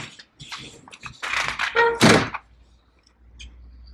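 A door on a Honda Pioneer 500 utility vehicle is worked and swung shut, with a cluster of clattering, rattling movements building to a solid thunk, then quiet with faint handling taps.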